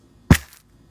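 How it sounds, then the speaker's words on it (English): One sharp, close crack comes from a homemade snare drum made of two coasters with a contact microphone and a box filled with basmati rice, with a brief rattling tail before it falls silent. "The snare drum is 2 coasters with a contact microphone and a box filled with basmati rice."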